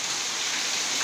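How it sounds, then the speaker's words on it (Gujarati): A brief, unbroken roar of heavy rain falling in a village, loud, close and steady from start to finish. "ભૂંગળામાં કેટલું પાણી પડે કેટલો વરસાદ આવે સાંભળો"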